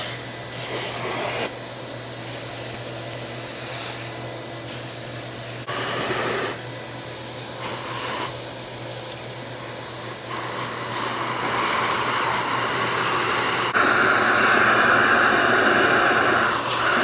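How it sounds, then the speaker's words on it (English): A vacuum hose sucks debris out of a cleaner, a loud steady roaring whoosh with several brief surges and rattles of debris, the pitch rising and intensifying toward the end, with no talking. "see if I can't vacuum out more of the debris that's inside here instead of disassembling it"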